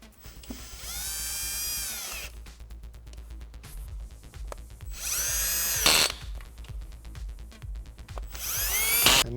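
A cordless drill on a low clutch setting runs down valve cover bolts on a 2006 Audi A4 B7 3.2, in three whirring bursts separated by pauses, each ending as the clutch ratchets and clicks through.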